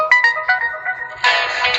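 A short Android phone notification tone plays alone: a quick run of bright chiming notes followed by a fuller, sustained chime, clear and close.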